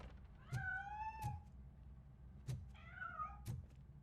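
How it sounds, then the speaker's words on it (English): A cat meows in short bursts inside the video game RoboCop: Rogue City, with four separate calls spaced across a few seconds. The calls are clear and fairly near, and no one talks over them. "That cat must be hiding inside."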